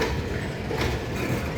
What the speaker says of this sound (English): This is quite a long train. And it seems even longer when it's only creeping by at maybe 10 miles an hour.